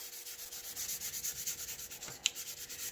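Hand sanding of a guitar finish with fine 3M dry sandpaper produces quick, even back-and-forth rubbing strokes, close and soft, keeping a regular rhythm with one sharp tick partway through.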